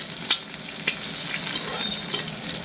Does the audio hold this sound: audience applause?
no